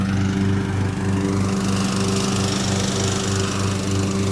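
Lawn mower engine running steadily at a constant drone with harmonic hum, close and loud throughout, no talking, in a homestead yard where a cedar tree was being trimmed.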